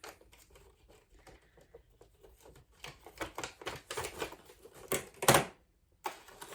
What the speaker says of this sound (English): If I can get the scissors to work.